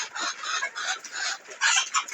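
Fayoumi chickens on a farm cluck in a dense, continuous chorus at close range, the calls rising and falling in overlapping bursts with a louder surge near the end.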